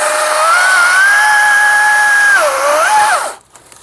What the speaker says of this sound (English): Now we're gonna go at it with the 40 volt chainsaw.